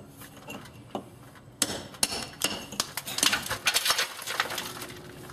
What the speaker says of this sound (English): Just a lot more hammering, and we'll be inside.